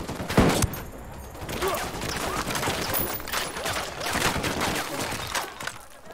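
Gunfire in the video game Ghost Recon Wildlands, rapid bursts of shots rattling across the whole stretch, with a sharp loud crack near the start and repeated volleys after.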